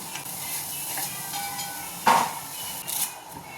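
Finely chopped shallots, garlic and ginger sizzle in a pan with coconut. A steady fry hisses throughout, and a few sharp scrapes and clinks of stirring come through up close.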